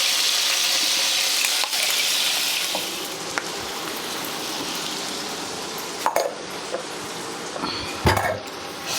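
Ginger garlic paste frying in hot oil with masala for a hilsa fish dish, a broad steady sizzle up close with a few sharp clicks of a spoon against the pan, no speech.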